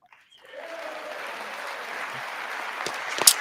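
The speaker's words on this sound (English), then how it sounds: "They will clap for anything he says." Applause rising from near silence into a steady wash of clapping from a crowd during a political speech, moderately distant, with a few louder sharp claps toward the end.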